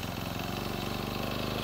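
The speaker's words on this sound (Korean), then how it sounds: "엔진을 작동시켜 남은 기름까지 날려줍니다." A brush cutter's small engine runs on to burn off leftover fuel. It makes a steady, even, buzzing idle throughout, close and unbroken.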